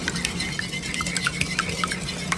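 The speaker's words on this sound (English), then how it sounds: "I'm just going to add 2 eggs. Give them a little whisk." Two eggs whisked in a bowl over butter, a quick rhythmic series of light metallic ticks and swishes, close and steady for the whole stretch, without any voices.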